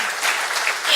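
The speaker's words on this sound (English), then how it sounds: "Where's my thunderous applause?" A short burst of applause sound effect, one second of dense, crowd-like clapping that stays fairly loud and even throughout, with no voices over it.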